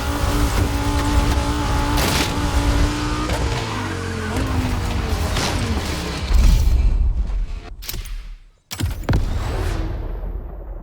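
Lamborghini Terzo Millennio in The Crew Motorfest, its engine roaring loudly and steadily with shifting pitch, brief tire-squeal bursts and a sudden cutout near the end before the engine surges back.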